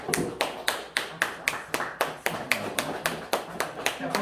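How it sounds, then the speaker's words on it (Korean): Slow, steady rhythmic clapping at a church ordination ceremony in Seoul, about a dozen sharp claps at an even pace, close and fairly clear with little else behind them. "네, 박수 치시죠."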